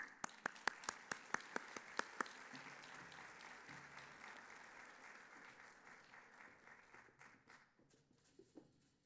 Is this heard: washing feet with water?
no